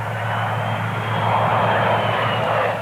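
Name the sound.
CRJ regional jet airplane engine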